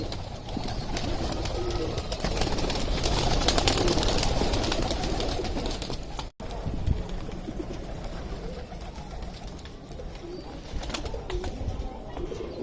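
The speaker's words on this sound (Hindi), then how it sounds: "तो कुछ हल्की सी छोटा सा शॉट देखिए हमारे कबूतरों का" Pigeons in a home loft coo steadily and close by, a dense murmuring flock with occasional wing flaps, a brief dropout midway, and no one talking.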